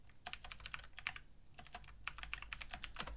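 Steady, rapid typing on a computer keyboard during a lecture on algorithms: dense clusters of close keystroke clicks tapping along continuously, with no talking.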